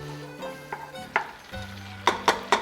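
Butter melting with a little olive oil in a pan, a soft steady sizzle with a few stirring scrapes and clinks growing louder toward the end.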